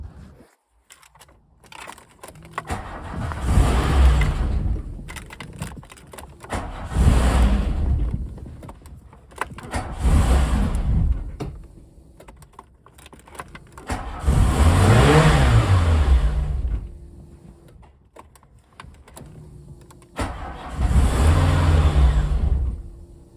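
A VW MK2 Golf GTI 16v engine revving under throttle in five loud, sustained bursts that rise and fall, with idle dips between them, close by and with no talking.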